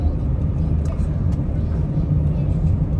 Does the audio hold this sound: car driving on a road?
yes